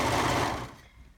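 A serger sews the necklines of a garment together in a short burst of fast whirring that stops partway through, followed by near quiet.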